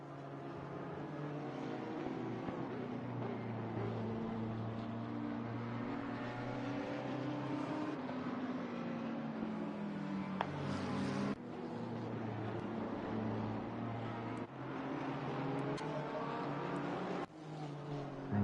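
Race car engines roar in a sim racing game at Watkins Glen, a continuous dense drone of several cars with rising and falling pitch through gear changes, steady and fairly loud throughout.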